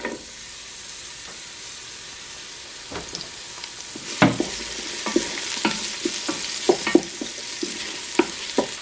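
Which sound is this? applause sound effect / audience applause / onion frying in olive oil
onion frying in olive oil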